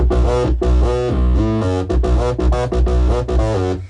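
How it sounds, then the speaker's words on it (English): A buzzy, resonant Roland TB-303 synth bass line repeats in a quick pattern of short, squelchy notes, loud and alone, with the tone shifting as it plays. "This is the most interesting thing about the sound of the TB-303."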